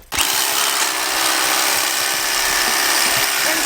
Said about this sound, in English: Drilling holes in the existing concrete so that when we pour, we can shove rods in there